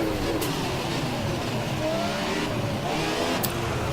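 A Formula 1 car engine in the racing video game F1 2017 screams at high revs, its pitch rising and shifting through gear changes in a loud, continuous drone without talk.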